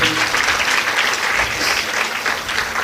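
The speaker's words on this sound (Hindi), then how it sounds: "अब आप ताली बजा सकते हैं।" Applause from the audience at a Devi Bhagwat Katha religious discourse, a loud, continuous roar of many hands clapping with no pause throughout.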